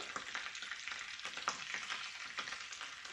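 Cassava cheese cakes frying in melted butter and hot olive oil, a steady close sizzle with scattered crackles and pops, no voices.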